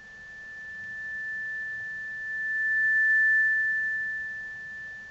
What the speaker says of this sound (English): Punch a sine wave into there because, you know, can't copyright a sine wave.